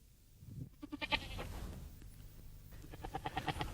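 A ram bleats in a quavering, pulsing call, then a second wavering bleat, fairly close over a low rural background murmur.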